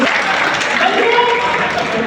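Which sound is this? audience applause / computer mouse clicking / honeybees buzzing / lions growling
audience applause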